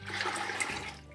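Water splashes and pours while a container for pear hard cider is rinsed with cold water, a steady close gushing rush that lasts about a second and briefly eases near the end, with no talking.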